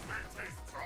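A bird in the Punishing Gray Raven video game gives short nasal quacks, two or three in quick succession, close and fairly faint, with a voice partly over them.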